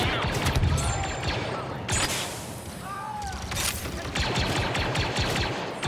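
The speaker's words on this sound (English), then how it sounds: "Grenade, throw my grenade." Gunfire and a grenade blast crackle through a Star Wars Battlefront II battle, dense rapid shots and bursts running continuously under a busy, fairly loud game soundscape.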